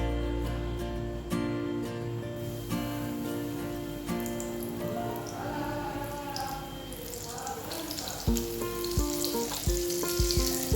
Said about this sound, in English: So here my oil is already hot, so I'm gonna start frying them.